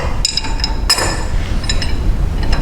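Two steel wrenches clink and tap against each other on a table saw arbor nut, a few sharp metallic knocks early on over a steady low shop hum.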